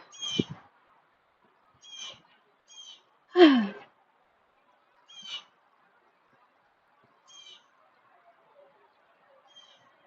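Birds chirping outdoors on a quiet walk, giving short, high bright calls at scattered intervals, some fairly close and others fainter, with a brief breathy human sound partway through.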